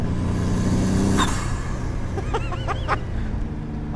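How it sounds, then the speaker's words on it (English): A steady engine note from a Formula Ford EcoBoost race car with sharp chattering bursts and hissing fizzes near the end, the turbo wastegate fluttering and dumping boost. "you also get all these massive chatters and fizzes from the wastegate as it opens and closes and dumps boost"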